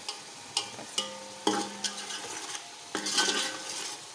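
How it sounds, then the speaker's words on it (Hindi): Spiced masala fries in a pan under a bright sizzle, while a metal spoon scrapes and clinks against the pan in repeated sharp strokes, and no one speaks. "अब इसको अच्छी तरह भून के इसमें हम भिंडी ऐड करेंगे"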